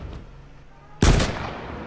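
Gunfire in the H1Z1 battle royale game: after a quiet stretch, a loud close burst of shots erupts suddenly, with a couple of quick reports that trail off into a lingering echo.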